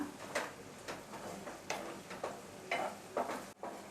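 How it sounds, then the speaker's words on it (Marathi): Garlic sautéing with softened onion in a pan for a Koli-style brinjal-potato bombil masala, heard as a steady close sizzle broken by rhythmic stirring scrapes every half second or so. "हा लसूण आहे ना तो घालूया हा सुद्धा ना आपल्याला परतून घ्यायचा आहे थोडा"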